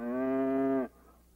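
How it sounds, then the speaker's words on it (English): Cow mooing heard once, a loud, steady, drawn-out moo lasting under a second that cuts off abruptly into quiet, with no talk over it. "That's what a cow says,"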